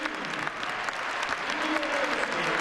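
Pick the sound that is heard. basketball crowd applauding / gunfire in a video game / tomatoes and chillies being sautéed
basketball crowd applauding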